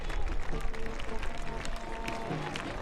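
Soccer fans at One Spokane Stadium applauding during a match, a broad wash of crowd clapping and noise running continuously under a commentator's voice.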